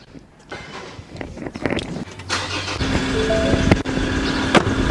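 A 2018 Ford Ranger Wildtrak 4x4 pickup with automatic transmission cranks and starts, its engine catching and settling into a steady, loud idle rumble with a few sharp knocks, heard up close without talk.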